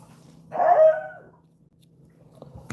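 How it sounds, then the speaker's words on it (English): A dog gives a single short bark that trails into a whimpering whine, close and fairly loud, followed by quiet and a faint click at the end. "Go lay down, dog. Y'all go lay down."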